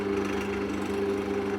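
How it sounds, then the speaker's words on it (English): A wood lathe hums steadily at low speed while a pen is being turned, a constant motor drone with a tonal whine, close and unbroken. "Just run this, I've slowed it right down"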